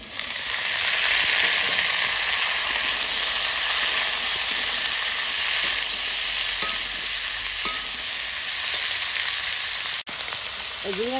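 Ridge gourd, green chillies and potatoes fry in a wok, giving a loud, steady sizzle throughout with a few faint scrapes and a brief break near the end.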